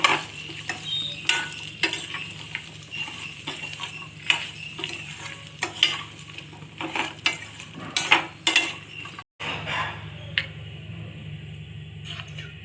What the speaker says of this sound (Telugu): కొబ్బరి ముక్కలు కూడా వేసి ఒక్క నిమిషం ఇలా వేయించాలండి పచ్చివాసన దాకా